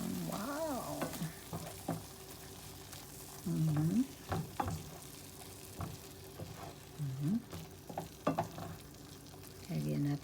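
Meat and softened tomatoes sizzle and fry in a pan, a steady close crackle with bursts of stirring and scraping, while a voice murmurs briefly at intervals.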